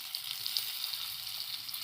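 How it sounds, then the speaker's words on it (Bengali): Lentil dhoka cakes sizzling in hot oil in a kadai, a continuous crackling hiss with small popping bursts, close and fairly quiet. "এই আমার ধোঁকাগুলো ভাজা হয়ে গেছে"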